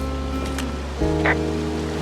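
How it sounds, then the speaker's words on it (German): A waterfall in the video game Firewatch rushes as a steady, loud broadband roar, with faint game tones and a brief higher chirp layered over it. "It's a really nice waterfall down here."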